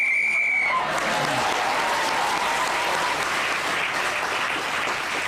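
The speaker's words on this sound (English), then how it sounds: "Dara Briain was again speaking as the whistle went" A referee's whistle blows to end a round on the panel game Just a Minute, a brief high tone at the start quickly swallowed by loud, sustained studio audience applause.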